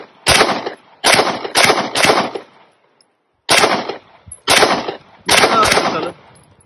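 A Canik Elite S pistol fired at a target outdoors in slow, deliberate shots, each crack loud and close with a short ringing tail, spaced by brief pauses.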